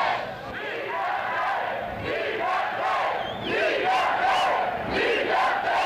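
A large crowd of free speech protesters rallying on Parliament Hill, shouting and cheering in a continuous roar with rising and falling chants, loud and sustained.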